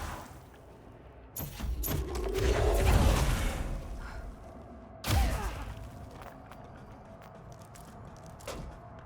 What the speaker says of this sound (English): The AoE radius, the blast radius on my grenade launcher is crazy.